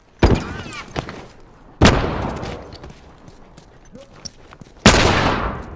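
Rifle gunfire in The Last of Us Factions multiplayer: three loud, sharp shots spaced a second or more apart, each trailing off in a long echoing decay, with a few fainter thumps between them.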